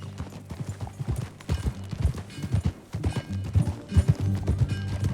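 Horse hooves clip-clop steadily at close range in Red Dead Redemption 2, a brisk uneven rhythm of many hoofbeats with an occasional snort or whinny mixed in.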